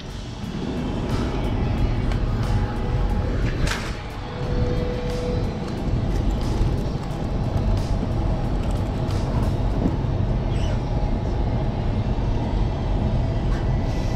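Train at Wolli Creek station in Sydney, a steady broadband rumble of wheels and motors that holds for the whole stretch, fairly loud and close, with faint tonal squeals now and then and no talk.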